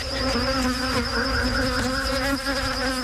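A swarm of bees drones loudly and continuously at close range, with several overlapping buzzing tones wavering slightly in pitch and no voices present.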